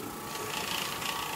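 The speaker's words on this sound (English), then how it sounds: "Agitating it with the black nylon brush." Black nylon brush scrubbing cleaning solution into a traffic area of carpet, a steady close bristly rasp that continues without pause.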